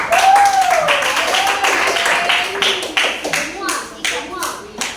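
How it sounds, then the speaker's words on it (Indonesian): A classroom group claps for the fourth group at a school presentation, a brisk burst of many hands with voices calling out over it throughout. "Tepuk tangan untuk kelompok keempat dulu."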